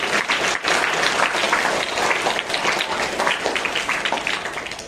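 A school annual day audience applauds two leaders with steady, dense clapping that fills the whole stretch, loud and continuous before tapering slightly at the end.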